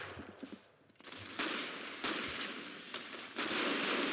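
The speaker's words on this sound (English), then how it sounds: "I like these guns. Fully autos." Fully automatic guns rattle in long, loud bursts of rapid fire in a video game, with short pauses between the strings of shots and no talk over them.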